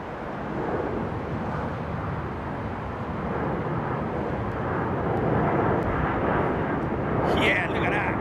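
A jet airliner climbs away after takeoff at London Heathrow, its engines giving a steady, broad roar that stays loud and continuous throughout.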